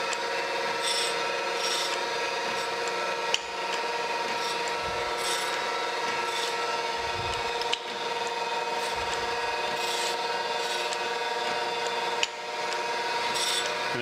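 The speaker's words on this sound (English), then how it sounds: "I'm going to flip this over and lightly grind the bottom side, which will be the reference side." Light grinding on the bottom side of a metal taper gage, a steady whirring machine hum with a rubbing, rasping texture, broken by brief dips at regular intervals as passes change.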